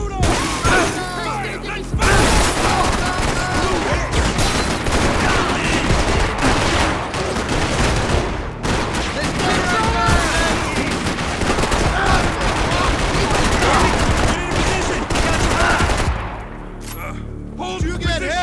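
Sustained heavy gunfire in the game Max Payne 3, dense overlapping shots and bursts rattling almost nonstop, with voices shouting through the firefight until it thins out near the end.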